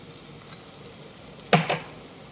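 Finely chopped garlic, added with carrot, sizzles faintly and steadily in a frying pan, broken by a light clink and then a louder scrape of a utensil against the pan.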